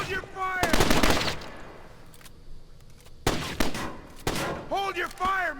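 Gunfire in the video game Splinter Cell: Chaos Theory comes in loud, close bursts of rapid shots with short gaps between them, and shouting voices cut in near the end.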